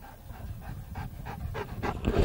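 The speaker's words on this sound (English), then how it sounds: "It's a good looking dog you got there." A dog pants close by in quick, rhythmic breaths, rising slightly in loudness over a couple of seconds, at a church rebuilding site.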